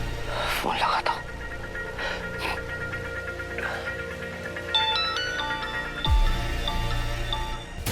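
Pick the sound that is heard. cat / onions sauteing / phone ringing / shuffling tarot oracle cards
phone ringing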